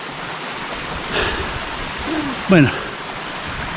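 Water rushes steadily at Las Tinajas del Consuelo waterfall, a broad constant roar that runs through the whole stretch, while someone speaks briefly over it.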